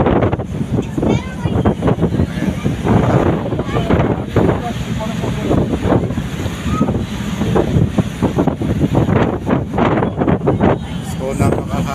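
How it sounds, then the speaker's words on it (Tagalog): Strong wind at Manly Beach, Sydney, buffeting the microphone in loud, continuous gusts with a low rumble throughout, and no other sound standing out. "Malakas yung hangin, marami."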